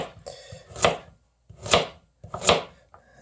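Three firm, evenly spaced chops as a Spyderco Paramilitary 2 folding knife cuts through a hard carrot, each stroke a sharp crunch with quiet gaps between.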